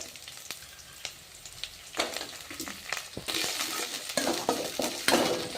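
Capsicum and fresh peas fry in a pan for mint rice, a crackling sizzle that swells louder partway through, punctuated by metallic clinks of a spoon against the pan.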